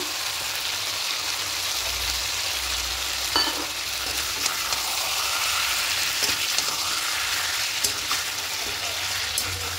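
Chicken curry with potatoes and yogurt sizzles steadily in a pan, a continuous close frying hiss with a few brief stirring scrapes and no talk.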